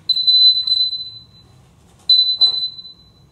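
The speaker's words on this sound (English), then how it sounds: "You're going to be hearing this beeping in the basement." An audible alarm for an oil leak containment tray in a basement sounds two long high-pitched electronic beeps separated by a pause, loud and clear with little else around.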